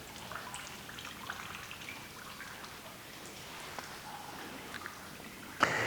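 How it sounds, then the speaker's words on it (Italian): Water flows and trickles steadily in the medieval cloister of Santi Quattro Coronati in Rome, a soft continuous patter of drips and splashes at moderate distance, ending with a brief louder splash. "l'effetto dell'acqua che scorre ci dà una sensazione di serenità"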